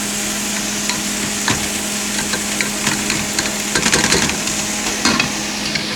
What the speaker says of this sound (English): We just want the greens to be on a nice low simmer.